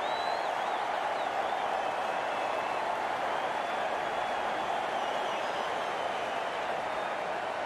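Crowd applause rises from the stands at a cricket match, a steady, broad wash of clapping and crowd noise that holds evenly throughout at moderate distance.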